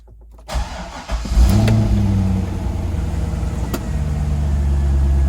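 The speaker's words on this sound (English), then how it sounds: "let's go ahead and fire it up, do a cold start" Cold start of a 2004 Chevy Corvette convertible V8: a short starter crank, then the engine catches with a loud rumble and settles into a high, steady fast idle, close by.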